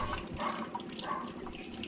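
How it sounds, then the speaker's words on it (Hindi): Water running from the outlet of a home RO filter during a filter replacement, a steady, quiet trickling stream heard alone without any talk. "और यहाँ देखिएगा पानी आ रहा है।"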